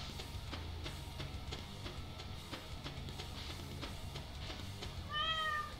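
A cat meows in the Stardew Valley video game, a short series of rising tones near the end over steady game music.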